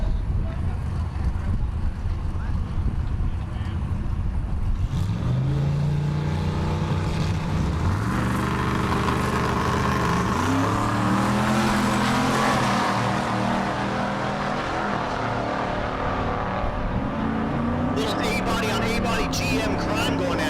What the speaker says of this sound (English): Here's Timmy Two Turbos in the left lane, the Pontiac. The right lane, the Chevelle